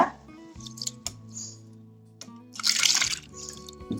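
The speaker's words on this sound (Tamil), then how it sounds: "இப்போ நம்ம இதில் தண்ணி ஊற்றி நல்லா ஒரு ரெண்டு முறை கழுவிக்கலாம்" Water sloshes and splashes as millet grains are swirled and rubbed by hand, with soft wet squishing and a louder burst of swishing near the end.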